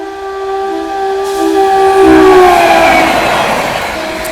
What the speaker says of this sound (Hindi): तो भाई 130 की रफ्तार में आ रही है तेजस राजधानी